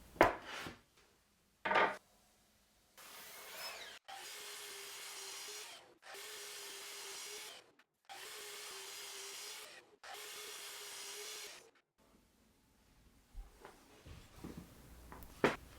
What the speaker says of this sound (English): Sanding the sander parts.